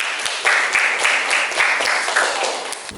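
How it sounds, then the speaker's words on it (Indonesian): A classroom full of students applauding, dense steady clapping that continues for a few seconds, close and fairly loud. "Tepuk tangan untuk kita semua."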